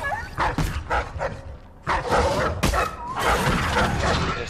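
Dogs barking and yelping in the stealth game Dishonored 2, with repeated sharp yips and barks in bursts amid scuffling game noise and clatter, fairly loud and close.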